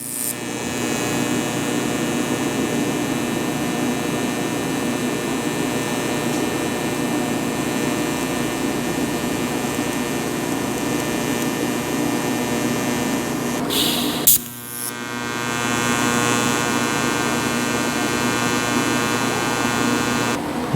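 TIG torch welding a titanium exhaust pipe for a 2024 Z06, a steady buzzing hum with a fine hiss that holds evenly, briefly cutting out with a click near the end before resuming.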